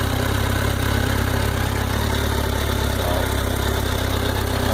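Stock-exhaust engine of a 2015 Kawasaki Versys 1000LT motorcycle idling steadily, a close, even low rumble with a constant thrum and no voices.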